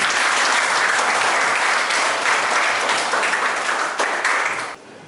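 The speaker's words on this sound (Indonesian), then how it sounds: "Kita tepuk tangan." A class audience at a nursing lecture applauds in a loud, dense burst of clapping that stays steady, then tapers and drops off sharply near the end.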